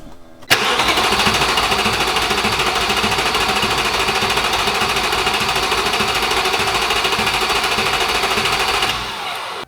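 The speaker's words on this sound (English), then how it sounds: "I'm gonna do one more round of cranking and we're probably good here" An Audi S4 B7 engine cranks over on its starter without firing, a loud, steady, rhythmic mechanical churning that runs for about eight seconds before cutting off.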